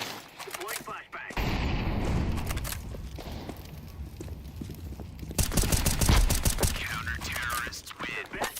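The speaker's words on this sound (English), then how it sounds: "Flashbang. Deploying flashbang." Counter-Strike match with a flashbang grenade and gunfire, dense bursts of weapon shots and game effects over clattering footsteps and mechanisms, with voices talking under the action.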